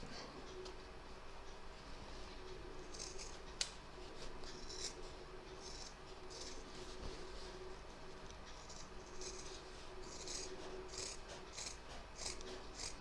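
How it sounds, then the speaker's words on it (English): Scissors snip repeatedly and faintly, trimming fabric around the edge of an in-the-hoop embroidered panty liner and bag and cutting through a zip, in irregular close-up cuts with no talking. "we're now going to trim all the way around the edge from cut line to cut line, leaving a 1/4 of an inch seam allowance all the way around"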